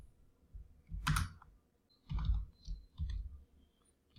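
Keys on a computer keyboard clack in short bursts as code is typed, four separate clusters of soft, close clicks with quiet pauses between them.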